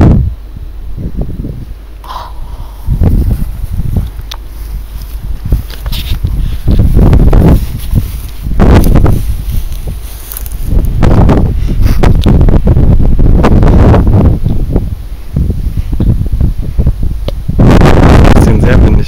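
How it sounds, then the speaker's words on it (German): Strong wind buffets a microphone outdoors on a paintball field, producing heavy, gusting low rumbles and rustling throughout, with faint voices now and then. "Das ist sehr windig, wa?"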